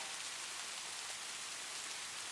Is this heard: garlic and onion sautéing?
no